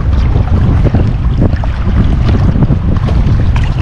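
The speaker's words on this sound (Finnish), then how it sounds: "pääsee tuuli taas painamaan niinku vapaasti pitkän matkan päästä" Strong wind blows across open water in the Archipelago Sea while kayaking, a steady close roar and buffet against the microphone with faint splashing underneath and no talk.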